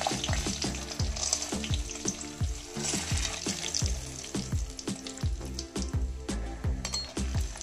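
Dry fruits and sunflower seeds fry in a pan for carrot halwa, a dense crackle under rapid, rhythmic knocks and scrapes of a spoon stirring them, near and with no talking.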